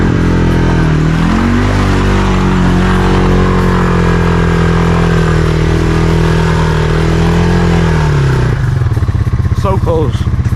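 A Honda Foreman ATV engine revs hard at full throttle through thick, deep mud, loud and close, with the pitch climbing then holding high before dropping off as the machine bogs down near the end.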